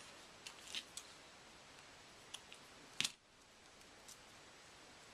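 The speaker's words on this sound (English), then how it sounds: "You can trim these extra pieces off." Scissors trim extra pieces off a Christmas wreath, making a few faint, sharp snips scattered over several seconds, with the last cut the crispest, in an otherwise quiet room.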